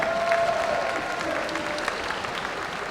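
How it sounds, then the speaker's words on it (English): Audience applause for championship contestants at a fight event, a steady wash of clapping from a crowd, fairly loud and sustained, with a faint voice audible over it. "please give a huge round of applause for our championship contestants"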